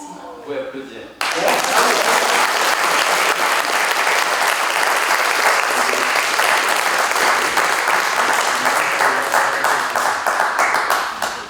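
Audience applause at a ceremony naming a knight of the Palmes académiques during a French ambassador's visit, bursting in after a brief spoken moment and holding loud, dense and steady from a large crowd until it fades at the end.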